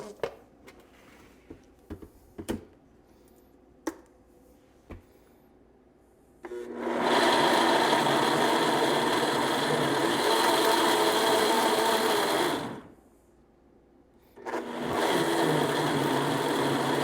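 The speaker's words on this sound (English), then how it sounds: "Okay, I ran it through the blender. It literally pulverizes it." A blender pulverizes pomegranate seeds with water in a home kitchen, whirring loudly for several seconds, stopping briefly, then starting again, after a series of small clicks and knocks.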